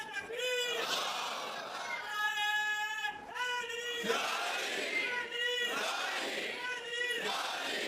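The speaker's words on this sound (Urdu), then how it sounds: "اگر خودداری پر نوجوان نعرے لگانے لگ گئے تو پھر تو بات بن گئی" A crowd of young men at a religious gathering chanting slogans in loud, repeated call-like phrases, each chant swelling in turn, echoing in a large space.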